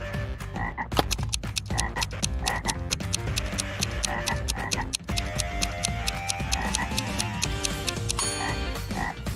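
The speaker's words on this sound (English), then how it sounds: "A frog is at the bottom of a well." A frog croaking at the bottom of a well, a steady run of rapid, rhythmic croaks that stay loud and close throughout, with a brief dip partway through before the calling resumes.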